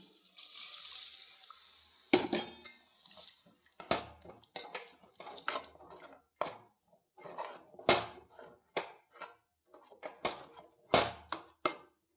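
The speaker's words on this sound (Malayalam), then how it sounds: "ഒന്നാം പാൽ ഒഴിച്ചു കൊടുക്കാം" First coconut milk poured into banana payasam: a brief soft liquid rush at the start, then a quiet run of irregular clinks and scrapes from the pan and spoon.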